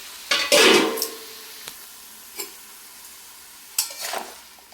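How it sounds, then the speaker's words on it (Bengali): Chopped Malabar spinach and eggplant hit a pan of lightly fried spices with a loud burst of sizzle, then quieter stirring scrapes and a second sizzling toss near the end. "হালকা মশলাটা কষিয়ে নেবার পরে আমি এখানে দিয়ে দিচ্ছি কেটে রাখা পুঁই শাক আর বেগুন।"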